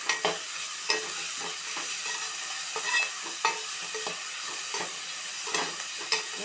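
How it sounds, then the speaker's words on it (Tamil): Chopped tomatoes with a little rock salt sauté in a pan with onion and ginger-garlic paste, a continuous close sizzle broken by regular scraping stirs of a spoon, with no one speaking. "இப்போ கட் பண்ணி வச்ச தக்காளி சேர்க்கிறேன். கொஞ்சம் நல்லா வதங்கிறதுக்கு"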